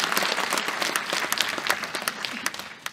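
Audience applause following an orchestra's performance at an anniversary concert, a dense burst of clapping that keeps going at a steady level without words over it.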